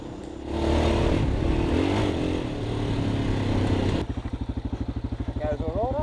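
Large motorcycle on an off-road single-track trail, engine loud and close, revving and surging, then dropping to a lumpy, rhythmic idle thump, with a voice partly audible over it.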